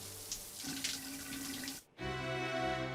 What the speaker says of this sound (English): Sebastian took a shower.